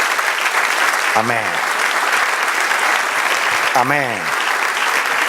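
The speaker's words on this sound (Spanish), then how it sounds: "Denle un aplauso al Señor y alábele." A church congregation at a Spanish-language worship service applauds loudly and steadily, a thick wash of clapping that fills the room while voices call out briefly twice over it.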